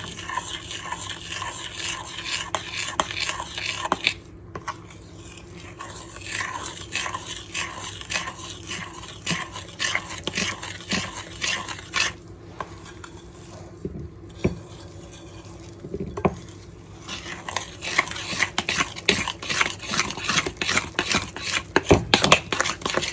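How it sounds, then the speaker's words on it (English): Chocolate cake batter being mixed by hand in a bowl, a repetitive rhythmic scraping and clicking of a utensil that continues through the whole stretch with brief pauses. "Now mix, mix, mix, mix, mix."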